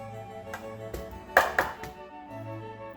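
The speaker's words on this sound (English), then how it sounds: "Shake out the bubbles." A small 9x9 baking pan holding keto bread batter is tapped to knock out bubbles, giving a few separate metallic knocks with two louder taps close together near the middle, heard nearby with no talking.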